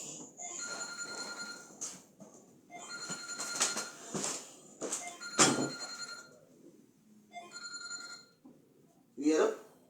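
A telephone rings in repeated bursts with pauses between them, fairly loud and close, and a voice cuts in near the end.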